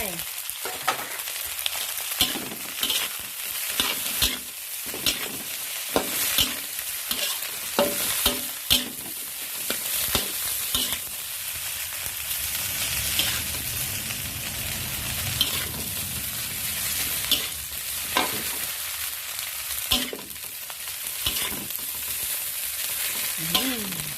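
Egg fried rice with spring onions stir-fried in a pan, a constant close sizzle broken by frequent scraping and clacking of the spatula in an uneven rhythm, with no speech.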